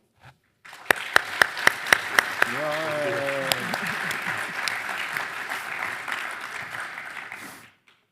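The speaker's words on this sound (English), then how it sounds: "Let's thank Professor Adams and all our panelists one more time with a round of applause" An audience at a university summit on modern conflict applauds the panelists in a steady burst of clapping lasting several seconds, opened by a few sharp individual claps, with a voice briefly heard early on.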